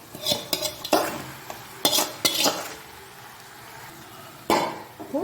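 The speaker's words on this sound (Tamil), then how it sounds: "சிக்கன் சேர்த்து நல்லா கிண்டி விடணும்" Spoon scraping and clattering in a pan as chicken is stirred into sautéed onion and tomato for chicken biryani, in bursts of close, loud clinks and scrapes with quieter gaps between.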